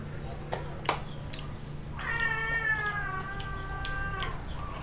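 A cat meows once in a drawn-out, wavering cry lasting about two seconds, close by, with a few clicks and light background hum around it.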